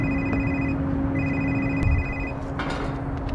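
A telephone rings in bursts, the ring stopping, starting again and then cutting off, heard over steady room noise.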